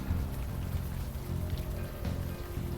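Rain in the Unavowed game falls as a steady, dense patter with a low rumbling bed, continuous and moderately loud, with no voices.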